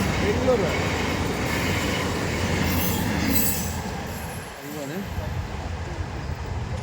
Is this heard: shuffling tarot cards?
no